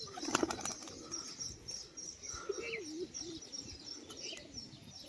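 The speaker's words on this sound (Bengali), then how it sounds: "মাদি পায়রাটা এবার বাজি দেখে দেবো।" A female tumbler pigeon beats its wings in a quick flurry of flapping at close range, with soft cooing and chirps from other pigeons nearby, no voices.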